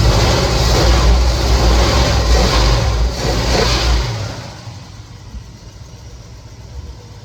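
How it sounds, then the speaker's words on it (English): Loud engine of a 1969 Chevelle SS that had sat for 37 years and runs rough with one cylinder cold, revving up close, holding a high roar for several seconds before dropping back to a lower idle. "Just try revving it up a bit."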